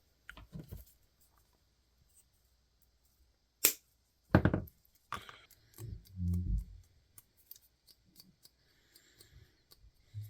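Scissors trimming material while building a Star Wars diorama, heard as a few sharp isolated snips and clacks close by, separated by quiet gaps, with no voices.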